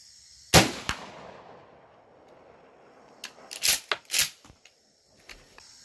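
12 gauge Remington Slugger 1 ounce 3-inch Magnum rifled slugs fired from a scoped shotgun at an outdoor range: one sharp, loud blast with a short echoing tail, then a cluster of clicks and clatter from cycling the action.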